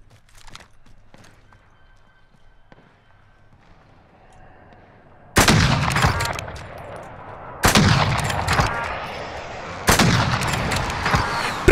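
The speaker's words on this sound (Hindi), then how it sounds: "तीन शॉट में तीन दुश्मन ढेर कर दूंगा मैं।" Three loud bursts of video game gunfire crack out alone, spaced a couple of seconds apart, after a quiet stretch of faint game ambience and soft tones.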